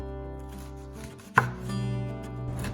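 A knife slicing thawed frozen lemon peels into thin strips, with a single sharp cut standing out amid low kitchen background hum; no talking.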